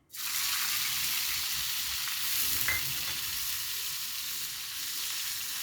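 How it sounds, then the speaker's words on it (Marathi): Washed Bombay duck (bombil) fish drop into hot oil and fry, a loud, steady sizzle that starts abruptly and holds evenly throughout, close by, with no voices. "तेलामध्ये असे बोंबील टाकायचे धुतलेले"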